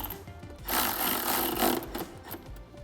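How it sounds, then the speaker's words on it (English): A 3/8 power gun with a 5/32 bit drives screws into a plastic cold air intake on a Bronco, a steady buzzing whir running about a second and a half between quieter moments. "I'll take my 5/32 again on my 3/8 gun and just run these in nice and easy"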